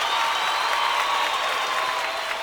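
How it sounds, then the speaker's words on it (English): Live podcast audience clapping for a latecomer named Angela, a dense, steady wash of applause that stays loud and even throughout with no gaps. "We gonna give Angela a clap because she be late sometimes."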